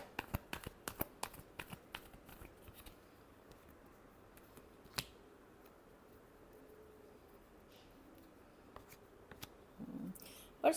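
Tarot cards are shuffled by hand in quick, soft riffling snaps and flicks, clustered at the start and end with quieter gaps between, close and intimate.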